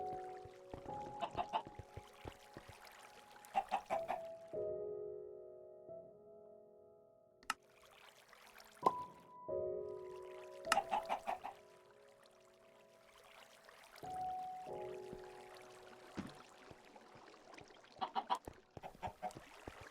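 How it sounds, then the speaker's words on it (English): Fowl clucking and honking in the Mine Colonies 3 block game, repeated bird calls in short bursts alongside tonal music notes, moderately loud with no talking. "There's the chicken."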